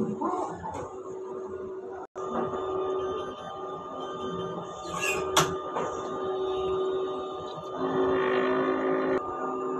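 An inkjet printer runs a head clean cycle, its printer head and capping station working in a steady mechanical hum with whirring motor tones and a few brief clicks and rattles, continuous and fairly close throughout.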